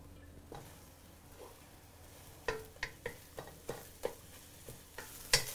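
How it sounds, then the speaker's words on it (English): Beaten eggs scramble in oil in a pan over medium heat under a soft, steady sizzle, then a run of sharp, evenly spaced spatula taps and scrapes in the second half, close up. "Using medium heat, we'll scramble the eggs."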